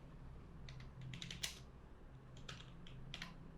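Soft, quiet clicking of a computer keyboard comes in irregular clusters of keystrokes over a low room hum as a short line of text is typed.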